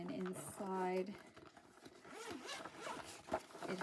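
A zipper on a clear pouch attached to a houndstooth fabric project bag, zipped in a couple of close, quick rasping pulls, with someone talking over it.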